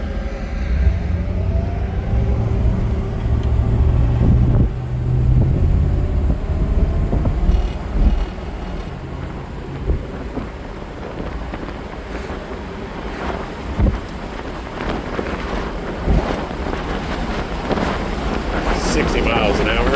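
A 1966 Ford Mustang convertible cruises along the road at speed, its engine a low steady rumble buried under heavy wind buffeting and road noise for the whole stretch.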